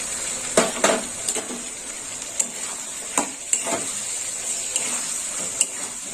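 Green chili paste stirred and frying into a potato curry in a pan, with a steady high sizzle and a few sharp spoon-on-pot knocks scattered through, close and without talk.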